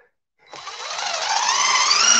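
A power drill drives big screws into wood while building a chicken coop, its motor rising into a steady, loud whine that climbs in pitch as it bears down, heard close and alone.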